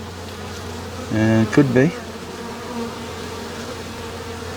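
A swarm of honey bees gives one close, loud buzzing pass lasting under a second, then a steady low hum of bees continues in the background. A voice speaks briefly.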